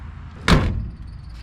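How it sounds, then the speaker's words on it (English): A door on a 1958 Chevrolet Bel Air shuts with a single solid thunk at close range, the impact briefly loud before a short decay against a quiet background. "the doors on this thing open and close better than a brand new car"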